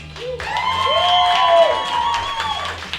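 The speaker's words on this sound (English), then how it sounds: "another fantastic round of applause for our feature of the evening, Nikki Reimer" A poetry slam crowd in a Calgary pub cheers and claps for the evening's featured poet, with a loud, sustained whoop or whistle riding over the applause.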